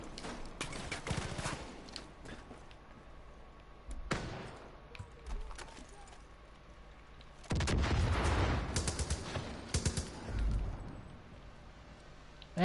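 Gunfire in Far Cry 5 aimed at a turret-armed enemy vehicle, with bursts of shots and heavy blasts coming in uneven volleys, loudest in a dense run near the end, with little talk over it.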